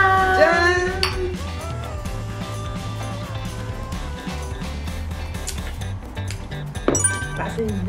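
Glasses clink together in a toast at a home party with beer-like drinks, a few bright chimes near the start over steady background music and people talking.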